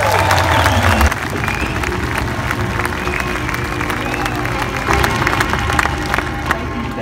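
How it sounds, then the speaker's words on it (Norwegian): A live audience applauds Gary Vaynerchuk at a talk in Oslo, a dense wash of clapping and crowd noise with some cheering, steady and sustained. "Let's get a big applause for Gary Vaynerchuk!"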